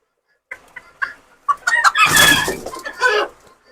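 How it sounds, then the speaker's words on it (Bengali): A Silver Laced Japanese Bantam chicken clucks in a run of short, close calls that build to a louder, denser burst of clucking in the middle before easing back to a few softer clucks. "এই মুরগিটা দেখেন এটা অনেক সুন্দর একটা মুরগি এটা জাপানিজ"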